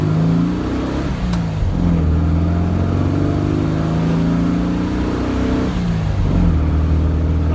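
A stock Volkswagen 1600 engine revving up and down repeatedly, loud and close, with rising and falling pitch sweeps over a rumbling idle.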